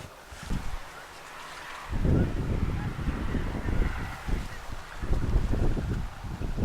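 Geese honk repeatedly in a loose, overlapping chorus, fairly close, with gusty wind rumbling across the microphone throughout.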